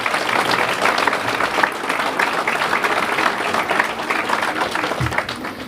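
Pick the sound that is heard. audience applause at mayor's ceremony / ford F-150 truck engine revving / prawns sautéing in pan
audience applause at mayor's ceremony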